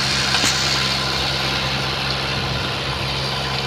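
A driverless tractor engine runs steadily on its own, a continuous low diesel drone with a faint brief knock near the start, close and fairly loud with no voices.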